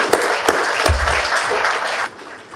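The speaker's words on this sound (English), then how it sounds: "Big applause for you too." Audience applause at an aerospace forum in Casablanca; a dense burst of clapping from a large crowd with a few louder sharp claps, fading toward the end.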